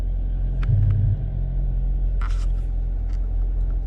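A Jeep creeps forward at a crawl in Select-Speed mode, its engine a steady low rumble close by, with a few faint clicks and knocks over the top and no speech.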